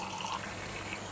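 Boiling water is poured steadily into a tumbler holding cinnamon powder, a soft, continuous splashing fill heard faintly and alone for a brief moment.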